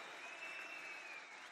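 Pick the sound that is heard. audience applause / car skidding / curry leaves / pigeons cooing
audience applause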